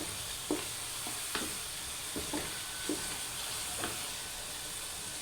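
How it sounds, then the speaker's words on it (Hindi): Spices and masala for a chicken and cauliflower gravy roast in a pan, a constant soft sizzle broken by several distinct scrapes and knocks of a spoon stirring against the pan. "मसाले अच्छे से आपने अच्छे से भून लेने हैं"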